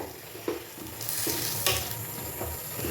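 Chandrakala sweets are stirred and dipped in sugar syrup in a pan, giving soft wet swishes and a few light knocks over a faint steady hiss, close by, with no talking.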